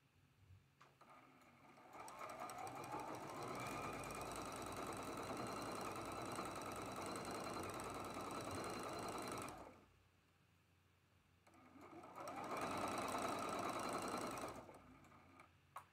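A sewing machine stitches quilt block seams in two runs, a long steady whir of roughly seven seconds, a brief pause, then a second shorter burst, close and clear with no talking.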